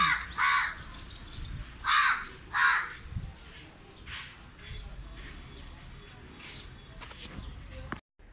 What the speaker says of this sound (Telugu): ఎట్లుందండి మా కాకి గోల?